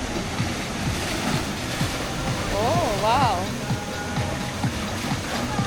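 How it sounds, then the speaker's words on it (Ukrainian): Steady wash of sea waves rolling onto a crowded beach in Spain, a continuous surf roar with a faint whistle and an exclaiming voice over it. "сидять, насолоджуються шумом моря"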